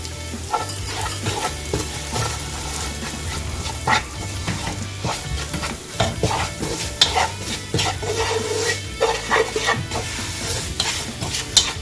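Ground masala with onion and tomato fries in a pan for mutton pepper roast, a dense sizzle broken by repeated scraping and stirring strokes, with a dog barking faintly in the background.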